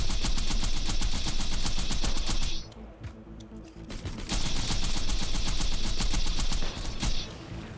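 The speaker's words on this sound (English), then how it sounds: "Hopefully he doesn't move around too much and I can just keep shooting him." Rapid automatic gunfire from a looter-shooter weapon in the Borderlands style rattles loudly in two long sustained bursts, separated by a short pause with a few single shots.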